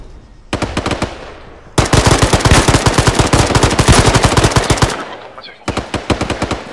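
Automatic gunfire in the military shooter ArmA 3: loud, rapid bursts of shots, first a short volley, then a long sustained stream, then another short burst after a brief pause.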